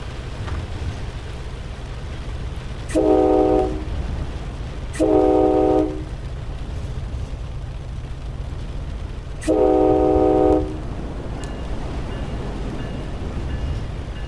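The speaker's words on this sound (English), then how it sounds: "So just chugging along slowly along here might push me late." F40PH-3C diesel locomotive in Train Sim World 2 on a run from Boston South Station to Stoughton, a steady low engine rumble under three loud chordal horn blasts, two close together and a third later, no talk.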